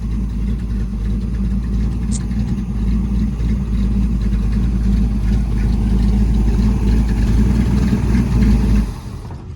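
A 1937 Ford engine with a suspected carburetor problem runs steadily up close, a low, even drone that holds for most of the stretch and then drops away sharply near the end.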